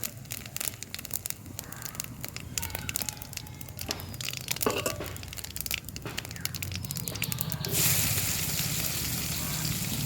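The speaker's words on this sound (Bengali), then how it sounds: "কড়াইয়ে তেল আছে, এর মধ্যে আর একটু তেল দিয়ে আমি সব পেঁয়াজ রসুন সব মশলাগুলো কষিয়ে নেব।" Onion, garlic and spices fry in oil in a wok, a steady close sizzle and crackle running throughout, swelling louder near the end.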